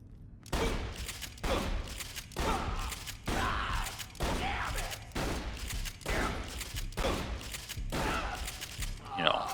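Scav shotgun from Borderlands The Pre-Sequel firing about nine times in a steady rhythm, each loud blast leaving a short tail before the next, with no gaps of silence between shots.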